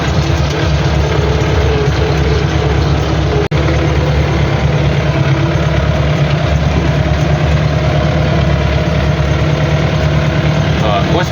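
An MTZ-82.1 tractor pulling an SZ-3.6 seed drill while sowing soybeans gives a loud, constant low engine drone with a vibrating mechanical rumble. The noise runs steadily throughout, with one sharp click partway through.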